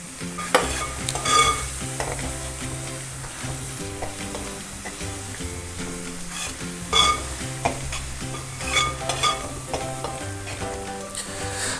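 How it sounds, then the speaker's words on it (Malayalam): A Kerala egg roast masala gravy sizzles and bubbles in a pan over raised flame while being stirred, a close, continuous frying hiss with periodic scraping strokes and music playing underneath. "അപ്പോൾ ഇതൊന്ന് നന്നായിട്ട് തിളച്ച് വീണ്ടും എണ്ണ തെളിഞ്ഞ് വരുന്നത് വരെ ഇളക്കി കൊടുക്കുക"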